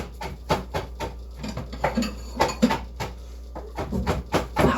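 Glass and ceramic dishes clink and knock together repeatedly as a glass bowl is taken out in a kitchen, a series of close, light clatters with rustling in between.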